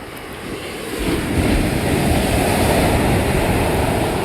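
Ocean surf washes steadily onto a sandy beach at sunset, a continuous broad roar that swells after the first second and stays loud with wind buffeting the microphone.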